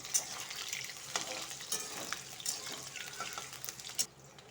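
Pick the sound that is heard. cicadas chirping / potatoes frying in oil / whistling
potatoes frying in oil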